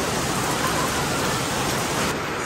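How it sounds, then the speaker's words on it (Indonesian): Dense, steady downpour of heavy rain hisses evenly and loudly throughout, a continuous broadband wash with no voices over it. "Sumpah emang boleh hujan sederas ini."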